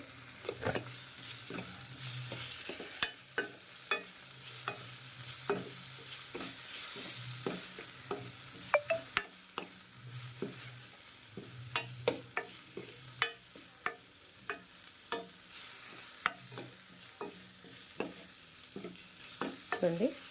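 Methi leaves and tomato curry fry in a pan, a low continuous sizzle punctuated by frequent sharp taps and scrapes of a spoon stirring against the pan, fairly quiet and close.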